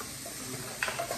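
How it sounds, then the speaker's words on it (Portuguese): Ground beef fries in a pan with a steady hissing sizzle, then a louder spattering burst and some stirring near the end, with no one talking. "vou esperar essa minha carne fritar"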